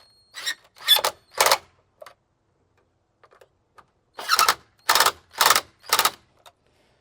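Battery hold-down on a 2016-or-later ND Mazda Miata being tightened, heard as sharp, loud ratchet bursts close by, three quick ones, a pause with faint clicks, then four more.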